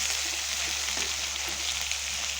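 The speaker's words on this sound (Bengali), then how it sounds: "এই দেখুন আমি ভাজছি" Food fries in a pan with a dense, even sizzle over a low steady hum, close and continuous throughout.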